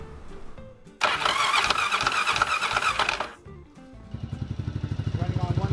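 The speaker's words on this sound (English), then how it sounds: "Running on one cylinder." A motorcycle engine cranks and then catches, running unevenly on only one cylinder; a loud roaring burst gives way to a steady, rapid, rhythmic putter close by.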